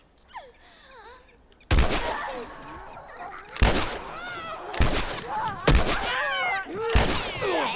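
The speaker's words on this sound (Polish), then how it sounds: "można spróbować... oddać skuteczny strzał" Gunfire in The Last of Us Remastered, with several loud, sharp game gunshots spaced out over a few seconds and echoing tails between them, heard under and around someone talking.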